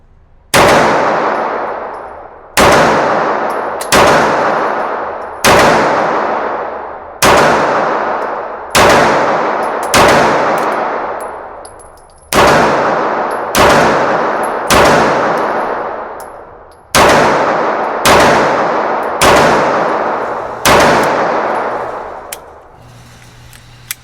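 About sixteen sharp, loud 300 Blackout rifle shots, spaced roughly a second or two apart, each followed by the ringing clang of a bullet striking a steel target.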